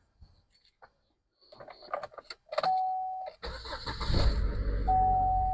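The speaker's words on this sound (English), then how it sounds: "let's go in and try to start the car" A car engine starting after a battery replacement: a few faint clicks and key sounds, then the starter cranks and the engine catches and settles into a steady, fairly close idle.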